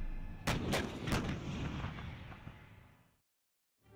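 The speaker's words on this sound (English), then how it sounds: "The M109 family is the most common Western indirect fire support weapon of maneuver brigades" An M109 self-propelled howitzer fires, giving several sharp, loud artillery blasts in quick succession with a rumbling tail that fades out before a brief final sound.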